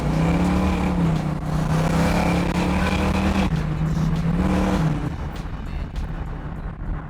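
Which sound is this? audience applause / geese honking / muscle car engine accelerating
muscle car engine accelerating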